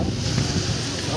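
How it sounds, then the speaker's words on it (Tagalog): Small boats out on the open sea at Dingalan, Aurora, with steady wind buffeting the microphone and a broad, continuous rumble of water and engines close by. "Daming bangka, mga kalongher."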